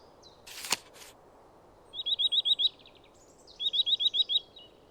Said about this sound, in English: Gray heron.